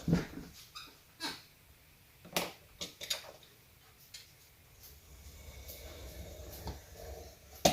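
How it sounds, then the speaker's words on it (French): A puppy gives faint, scattered whimpers mixed with snuffles and breathing, in short intermittent bursts over several seconds in a quiet indoor room. "Bébé chien, non."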